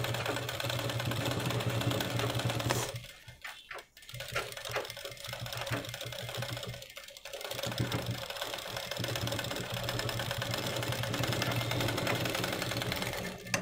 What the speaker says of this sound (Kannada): ಆ ಬಟ್ಟೆ ಮೇಲೆ ಒಂದು ಎಡ್ಜಿಗೆ ಸ್ಟಿಚ್ಚನ್ನು ಹಾಕೊಂಬನ್ನಿ